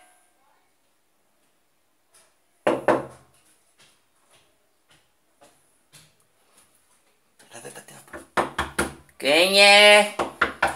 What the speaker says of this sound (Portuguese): E ela vai bater na porta.